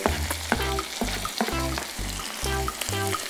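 Carrots and green beans for capcay fry in a pan with a lively sizzle, while a regular rhythm of stirring strokes repeats about every half second and no one speaks.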